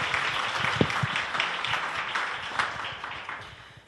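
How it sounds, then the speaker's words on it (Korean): A forum audience applauds at a corporate arts and business event. Moderate clapping from the room rises and then gradually thins and fades. "여러분들 큰 박수 부탁드리고 싶습니다."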